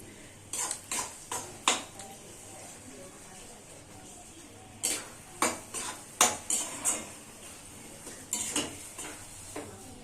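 A metal spatula repeatedly scrapes and knocks against a pan while fish jhuri is stirred, coming in clustered bursts of sharp clinks over a faint low background hum.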